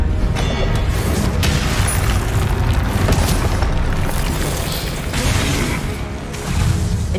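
Confringo explosive spell blasts in the Hogwarts Legacy video game, a dense, continuous run of deep booming explosions and crashing impacts that stays loud throughout with only a brief dip, no voices audible.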